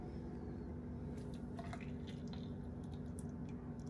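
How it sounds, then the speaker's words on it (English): Juice pours into a glass with soft dripping and liquid splashes over a steady low background hum, faint and close. "As always, I'm gonna pour me and Coach Cheesy a nice glass"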